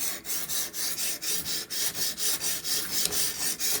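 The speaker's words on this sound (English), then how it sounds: "And it sounds more like a sharpening than a grinding." Steady rhythmic strokes of a knife blade across a fine whetstone on a RUIXIN PRO RX-009 sharpener, a soft hissing rasp repeating about three times per second.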